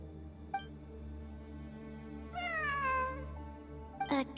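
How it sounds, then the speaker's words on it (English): A cat meows in Genshin Impact gameplay, one short faint mew followed by a longer, louder drawn-out meow and a sharp final cry over a quiet, steady background. "It really is a cat."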